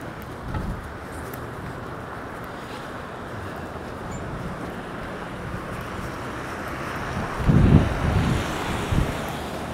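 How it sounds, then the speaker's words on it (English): Strong wind rumbles across a partly shielded microphone outdoors downtown on a late fall morning, a constant low roar with heavier gusts thumping in near the end. "trying to keep the mic from getting too much wind in it"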